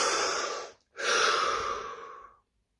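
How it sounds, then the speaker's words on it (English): Two deep breaths taken during a guided muscle relaxation exercise, a long inhale then a brief pause and a long airy exhale, close and soft with no talking. "Take a deep breath."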